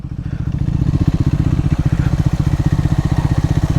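A 400cc Scrambler motorcycle crossing water on an adventure ride, its engine a steady, close, loud throbbing pulse that holds even for the whole stretch, with no voices.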